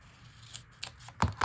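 Scissors cut a small paper strip in half while making a blue dragonfly notebook, giving a few short, crisp snips close by that grow louder toward the end, with no talking.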